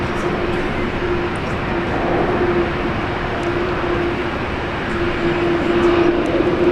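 A Qantas airliner on Flight 62 from Tokyo Narita arrives at Brisbane International Airport, its jet engines a steady broadband roar with a sustained tonal whine, loud and continuous throughout.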